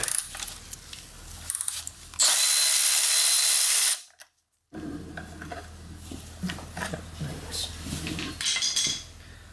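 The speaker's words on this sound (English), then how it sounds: "So now we're gonna take the power steering pump bracket off." Hand tools working on the power steering pump bracket of a 2002 Cadillac DeVille engine, with light metallic clinks and scraping, a loud sustained burst of about two seconds, then a brief silence and more intermittent tool clatter.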